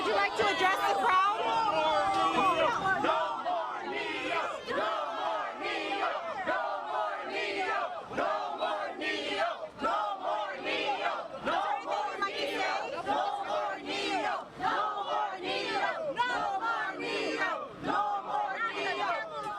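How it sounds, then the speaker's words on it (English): An angry crowd of Catholic protesters screams and yells at a Neocatechumenal leader, a dense, loud wall of shouting voices and chanting that continues without pause, close and chaotic. "it turned into violent screams"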